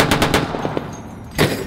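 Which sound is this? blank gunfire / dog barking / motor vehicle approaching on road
blank gunfire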